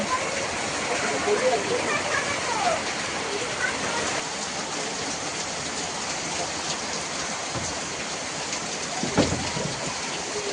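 Steady heavy rain pours off a drum overhead and splashes onto a surface nearby, a dense continuous hiss with a few louder thumps.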